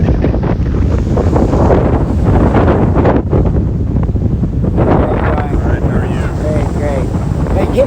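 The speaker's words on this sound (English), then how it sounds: "so I got the wind coming at me" Strong wind buffets the microphone outdoors in sunshine, a loud, continuous rumbling roar with gusty fluctuations throughout, and no clear speech.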